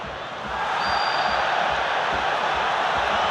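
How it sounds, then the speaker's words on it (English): A large football crowd at Crystal Palace versus Manchester United in the 2016 FA Cup Final roars and swells into a sustained, dense wall of noise as it calls for Wayne Rooney's sending off. "The crowd, the Crystal Palace crowd wanting Wayne Rooney to be sent off here for second yellow"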